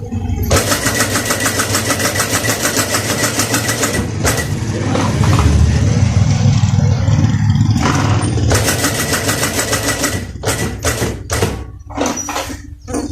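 A sewing machine stitches the round neckline of a kameez, its motor running in a steady close whir for long stretches, pausing briefly, then ending in a few short stop-start bursts and clicks.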